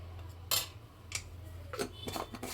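A spoon of ground flaxseed powder is tipped into a cup, giving a few soft metallic clinks and taps spread over a couple of seconds against a low background hum, quiet and close.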